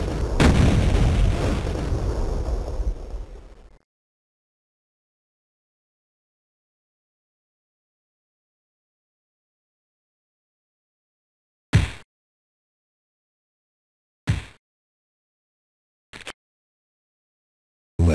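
Duke Nukem 3D running on an emulated classic Mac OS: a loud rumbling burst for several seconds, long silence, then four short sharp blasts spaced a few seconds apart.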